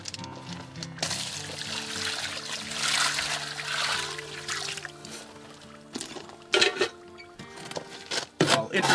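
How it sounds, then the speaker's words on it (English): Water pours steadily into a dry stone mortar mix for a stone window frame, a continuous close splashing and trickling, followed by a few louder scraping bursts near the end. "Introduce some water and then get that mixed up"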